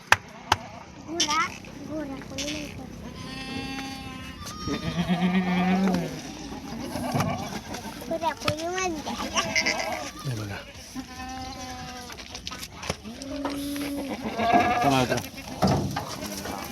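Kathiawadi goats bleating repeatedly from a delivered vehicle load at a goat market, many loud overlapping cries one after another, with people talking in between.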